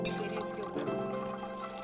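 Whey water drips and trickles through a cloth from fresh chhena while homemade paneer is being strained, a steady soft liquid patter with a faint background hum and no talking.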